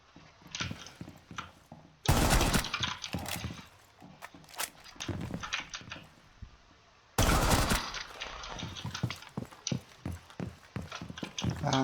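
Gunfire rattles through a Rainbow Six Siege match: scattered sharp shots and clattering hits, broken by two loud, dense bursts of sustained automatic fire a few seconds apart.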